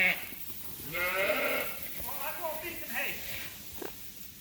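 Sheep bleat in a barn in short wavering calls, several overlapping across the clip and fairly close, with people talking quietly in the background.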